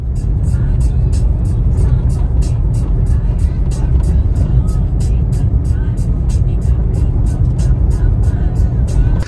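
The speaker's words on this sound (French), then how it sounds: "On était en train de rouler" A safari vehicle drives through Etosha in Namibia with a loud, constant, close engine and road rumble, overlaid by a regular ticking pattern that repeats throughout.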